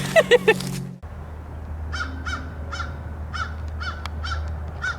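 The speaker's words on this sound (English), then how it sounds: "Greeted by a raven." A raven gives a series of hoarse, barking calls, about eight in a loose, steady rhythm, moderately near over outdoor background hum, after a brief burst of talk at the start.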